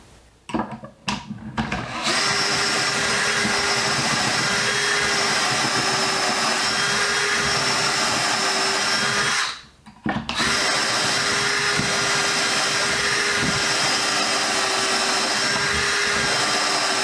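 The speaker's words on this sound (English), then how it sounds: "all the holes are drilled." A power drill boring holes for heavy-duty garage shelves whines loudly and steadily, cutting out briefly once before running on again, close up and with no talk.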